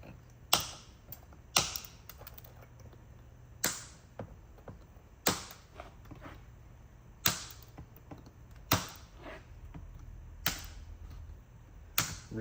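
Cutters snip the small plastic tails off truck cladding clips in sharp, loud snaps, about nine separate cuts spaced a second or so apart with faint handling noise between them.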